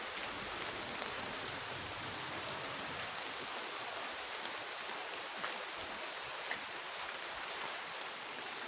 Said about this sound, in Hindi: देख सकते हो कितनी बारिश हो रही है यहाँ पे